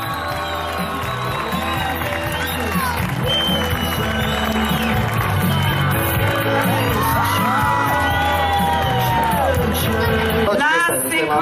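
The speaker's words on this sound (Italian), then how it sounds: "Vai con l'applauso!" A crowd at an Italian beauty pageant cheers, whoops and yells loudly over booming music. The noise stays steady and energetic throughout and cuts off abruptly near the end.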